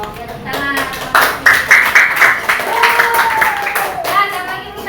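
Scattered hand clapping breaks out in a classroom lesson, a few sharp bursts over steady chatter and children's voices close by, settling back under talk after a couple of seconds.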